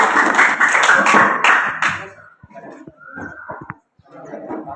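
Classroom students clap for a presenting group during a teaching session, a short burst of close, uneven clapping that fades after two seconds, followed by scattered voices and small noises.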